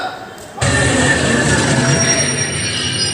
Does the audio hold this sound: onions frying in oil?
no